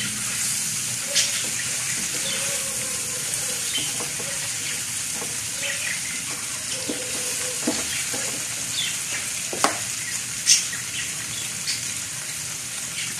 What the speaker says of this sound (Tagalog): Sa pagkaganyan, haluin na natin para di masunog.